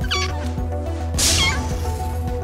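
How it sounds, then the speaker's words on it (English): A thrown kitten in an Oculus Rift virtual reality game lets out a single short, bright meow with a brief crash-like burst, set over steady game music and background hum. "I just threw a kitten at the flipping UFO"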